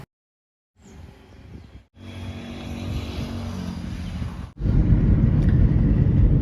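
A rented car drives on a village road in Goa, a low engine rumble and road noise inside the cabin that grows louder and heavier partway through.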